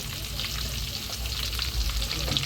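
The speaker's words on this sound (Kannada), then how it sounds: "ಈಗ ಕರ್ಬೇವು ಹಾಕಬೇಕು ಕರ್ಬೇವು ಹಾಕಿ ಸ್ವಲ್ಪ ರೋಸ್ಟ್ ಆದಮೇಲೆ" Curry leaves fry in hot oil in a pan for a fish fry masala, a loud, steady sizzle and crackle with no talk.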